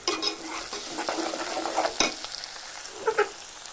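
Chopped onions fry in a pan for a fish curry, making a steady close sizzle broken by sharp spatters, pops and a few spoon scrapes against the pan, with no voices.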